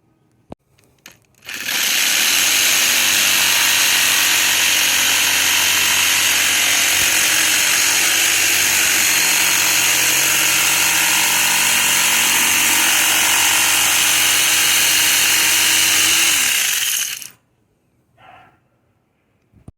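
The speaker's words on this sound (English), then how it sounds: "we're going to use this saw with a coarse cut blade to cut this out of the plastic." A power saw with a coarse-cut blade slicing through the plastic shell of a hockey helmet, a loud continuous buzzing whine that holds steady for about fifteen seconds, then stops, with a brief faint sound after.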